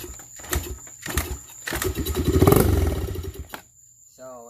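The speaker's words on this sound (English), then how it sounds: "Just gonna pull a little down the intake and kick it a few times." Dirt bike engine being kicked over several times, with bursts of sputtering and a brief catch into rough running, heard close and fairly loud before a faint voice near the end.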